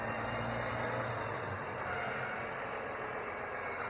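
A milk truck stuck in snow after a snowstorm idles with a steady, faint, low engine drone that holds even throughout, with no voices.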